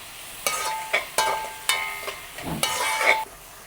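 Chopped leeks being sautéed in a pan while preparing chicken aval kothu, heard as a soft steady sizzle broken by repeated scraping stirs of a utensil against the pan, close by with no talking.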